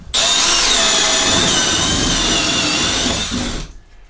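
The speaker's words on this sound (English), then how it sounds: "So all we do is drill a wee hole." A power drill with an 18mm bit bores into a wall, running loud and steady at close range for over three seconds before slowing and winding down.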